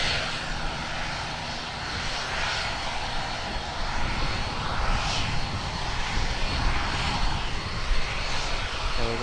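Engine drone of a Cessna 172 light aircraft at an airport, a steady broadband roar held at fairly constant loudness throughout, with no talk over it.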